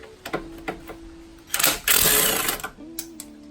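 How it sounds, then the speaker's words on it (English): Impact gun spinning on the lower bolts of a coilover during a 1G DSM AWD install, a few short clicks followed by a loud rattling burst of about a second, close by. "I'll use my impact gun because it'll just make it easier"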